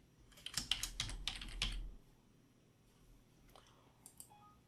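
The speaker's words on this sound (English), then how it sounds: "in Notepad I'll type hello" Keys tapped on a computer keyboard in Notepad: a quick burst of close, crisp clicks in the first two seconds, then a few scattered softer taps, with no talking.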